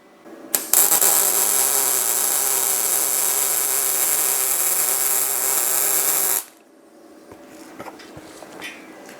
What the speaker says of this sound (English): Let's see how well they will weld.